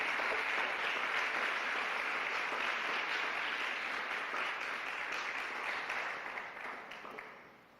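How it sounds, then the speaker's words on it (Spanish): A church congregation gives a long round of applause for the King during a sermon, steady crowd clapping that holds for several seconds before gradually fading out. "Denle otro aplauso al Rey"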